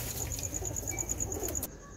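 A pigeon with a fever coos softly and repeatedly at close range, a low throaty murmur with faint background hiss.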